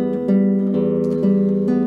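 A chord played tremolo-style, sustained and ringing, with rapid repeated note attacks pulsing steadily through the held harmony for about two seconds.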